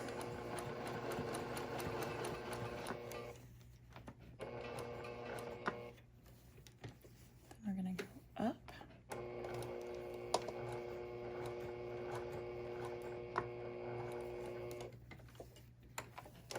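A sewing machine top-stitches a bag in several runs of fast, steady mechanical whirring and ticking, close and moderately quiet, separated by brief pauses and handling noises.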